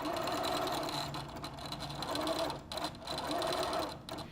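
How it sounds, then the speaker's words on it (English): A sewing machine top stitches a quilted fabric carrying cozy, its needle chattering in quick bursts that pause briefly and restart, close by and moderately quiet. "I'm going to do just a nice little top stitch here."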